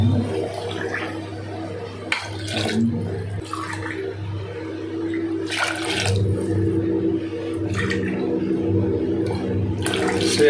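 Water pours steadily into a cooking pot with a continuous splashing rush, gurgling over several seconds, with occasional clinks and a low background hum.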